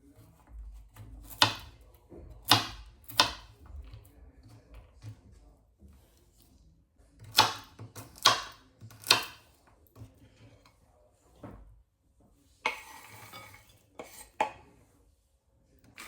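A knife chops walnuts into small pieces for a beetroot salad in a quiet kitchen, with sharp, sparse, irregular knocks spread out over time and soft clatter between them.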